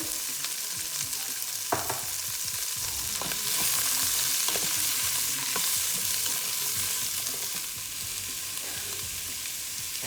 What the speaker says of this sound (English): Add a little more oil, and then you're going to add in all of your cut vegetables. Give this a good stir.